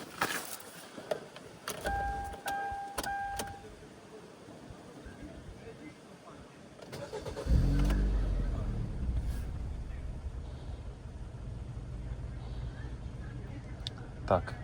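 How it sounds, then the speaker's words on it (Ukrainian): A Kia car's engine cranks and starts outdoors after a fuel-system cleaning treatment, then settles into a steady low idle rumble for several seconds, preceded by faint beeps and handling noises. "Можемо заводити машину."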